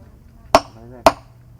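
Two sharp, ringing hammer strikes drive mushroom spawn plugs into a wooden log, spaced about half a second apart, close and loud against a quiet background.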